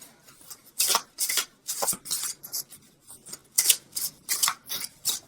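Tarot cards from a Visionary oracle deck being shuffled by hand, a series of crisp riffling bursts in uneven rhythm, close and fairly loud with no talking.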